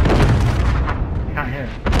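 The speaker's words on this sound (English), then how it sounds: "Airstrike." Heavy booming blasts of an airstrike in Call of Duty: Modern Warfare roll out loud and close, rumbling low with a couple of sharp bursts, while a voice speaks faintly under the noise.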